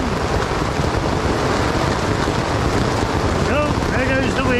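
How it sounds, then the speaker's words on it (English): Hailstones pelting down during a storm over a cycle-touring campsite in Bray-sur-Seine, France, a dense continuous hiss and patter with wind gusts, with a voice exclaiming near the end. "Actually, that's hailstones."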